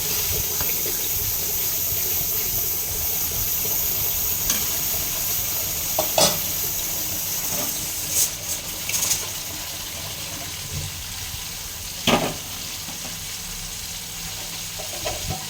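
Spices for a tilapia curry fry in oil in a pan with a loud, steady close sizzle, broken now and then by sharp clacks of a stirring spoon.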